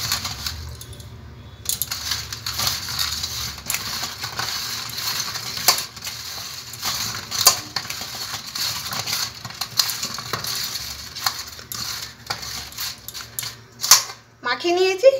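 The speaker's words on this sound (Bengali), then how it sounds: "এরপর নুন আর হলুদ খুব ভালো করে এগুলোকে মিশিয়ে নিচ্ছি।" Mashed potato is worked together with salt and turmeric by hand in a bowl, an irregular run of close soft squelches, clicks and scrapes that rise and fall throughout.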